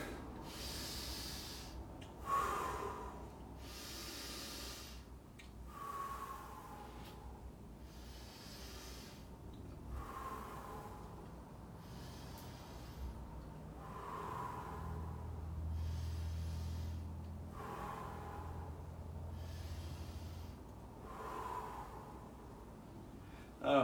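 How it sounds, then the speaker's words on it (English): Heavy, deliberate breathing repeats in slow cycles before a weightlifting attempt, each sharp inhale or forceful exhale spaced a few seconds apart, close and breathy over a quiet low hum. "I'm gonna do a breathing exercise."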